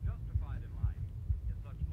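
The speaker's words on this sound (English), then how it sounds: "Oh man, I feel my heart beating." A low, steady heartbeat thumps in Fallout 4 VR with immersive mods, a muffled rhythmic pulse beating about twice a second under a soft hum.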